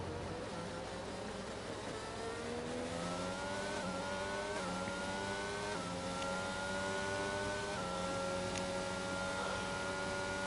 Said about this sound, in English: God, I love the sound of these cars.